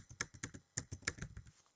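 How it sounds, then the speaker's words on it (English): Keys clatter on a computer keyboard as a search term goes into a Windows taskbar box, about a dozen quick, close, fairly quiet clicks in an uneven burst with no talking. "I'm going to start off by just typing it in here at the bottom."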